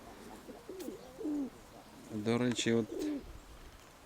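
Large grey pigeon cooing close by in a few short throaty phrases, one stronger burst in the middle, while someone speaks briefly nearby.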